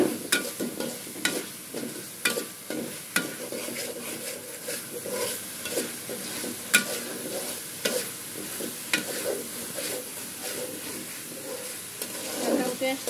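Beef masala being stirred and fried in oil in a pot, with repeated close scraping and clattering strokes over a steady sizzle, irregular in rhythm and fairly quiet, no talk.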